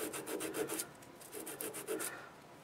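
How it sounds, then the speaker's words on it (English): Sandpaper rubbed back and forth with the grain across a turned padauk wood vase, heard as close, steady rhythmic rasping strokes with no voices. "little bit of sanding with the grain and we're in good shape"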